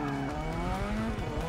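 A race car in the Forza 6 video game swerves with sustained engine whine and tire squeal, steady and loud throughout with shifting pitch and no talk over it.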